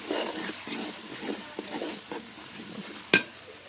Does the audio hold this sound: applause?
no